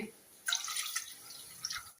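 A short, quiet pour of milk splashing into a pot for sago and vermicelli payasam, with a few soft trickles as it tapers off.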